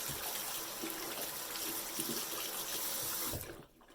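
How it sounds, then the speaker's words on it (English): A makeup brush is rinsed under a running tap, giving a steady rush of water into a sink for about three and a half seconds before it abruptly cuts off, close and moderately quiet, with no speech. "But let's do this brush. I'm going to rinse it."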